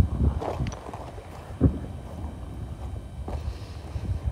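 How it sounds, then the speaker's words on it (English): A cold northeasterly wind blows across a marina on the River Orwell near Ipswich, buffeting the microphone with steady rumbling gusts and one sharp thump. "It'd be very cold with a wind like this in your face"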